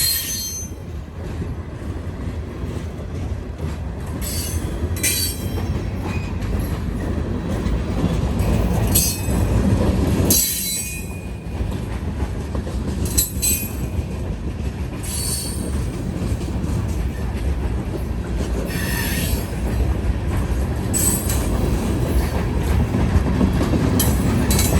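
A freight train rolls past close by, its first car loaded with railroad ties. Wheels squeal repeatedly over a continuous loud rumble and clatter, with no talking.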